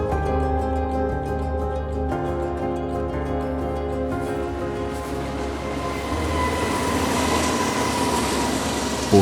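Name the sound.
train passing along a railway line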